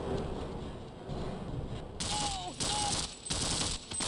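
Soldier enemies opening fire in Half-Life, heard as bursts of rapid automatic gunfire that start midway and come in two or three loud clusters over game ambience, with no voices over it.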